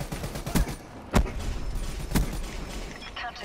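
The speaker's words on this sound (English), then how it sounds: "I'm shooting a hardened sentry." Video game gunfire aimed at a hardened sentry, a few sharp separate shots about a second apart over a busy mechanical background, moderately loud, with faint voice beneath.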